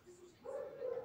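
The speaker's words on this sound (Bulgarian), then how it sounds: "Съжалявам, ако чувате кучетата навънка," Dogs bark outside, faint and distant, with a couple of short yips and a longer whining bark trailing off in the background.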